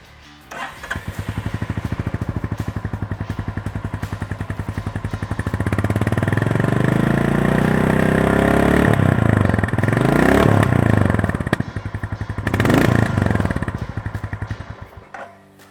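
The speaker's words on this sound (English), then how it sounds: "So you are expecting different exhaust load because it gets a slash cut exhaust." A Royal Enfield Goan Classic 350 bobber motorcycle with a slash-cut exhaust idles with a rapid, throbbing exhaust pulse, then revs up twice with a rising roar before settling back to a chugging idle.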